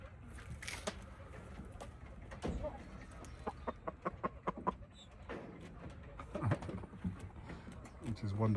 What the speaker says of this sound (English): How beautiful that cockerel is.